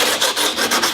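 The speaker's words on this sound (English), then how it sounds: "Go ahead and just keep sanding" Rhythmic abrasive scraping of sandpaper removing rust from a Mazda Miata's metal body, back-and-forth strokes repeating quickly and loudly up close.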